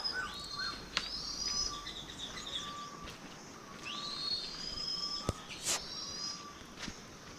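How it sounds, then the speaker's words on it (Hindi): Birds sing along a forest track, with clear whistled and chirping calls repeating at moderate distance over a soft insect background and occasional sharp clicks. "ये देखिए कितना सुंदर ट्रैक है और पक्षियों की आवाज़ें सुनिए"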